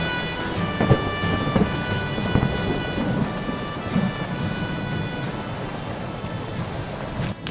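A thunderstorm on a dark night: steady heavy rain pattering on surfaces throughout, with rolling thunder rumbling low and a few sharper cracks, continuous and fairly close, no voices.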